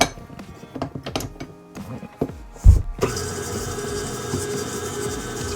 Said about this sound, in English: we're going to add our paddle attachment, and we'll cream together on medium-high for 2 to 3 minutes